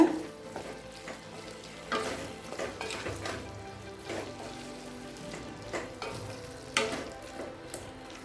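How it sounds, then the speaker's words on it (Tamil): Soya chunks (meal maker) being sautéed in a pan for a gravy, giving a steady soft sizzle with repeated scraping stirs of a spoon against the pan. There are no voices. "மீல் மேக்கர் சேர்த்துட்டு நல்லா வதக்கிக்கோங்க."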